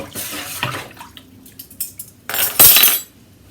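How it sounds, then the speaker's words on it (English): Salt stirred into a container of water for tie-dye, a spoon clinking and scraping against the sides with sloshing swirls, ending in a louder, longer stirring burst. "I've got to stir in the salt"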